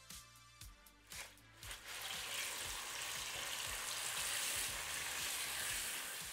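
Chicken pieces hit a hot oiled wok for teriyaki noodles: a few clanks and stirring knocks give way to a loud, continuous, close sizzle of frying.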